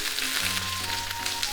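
Prawns frying in oil in a pan at medium heat, a dense, continuous crackling sizzle heard up close and fairly loud, with a faint low hum beneath it.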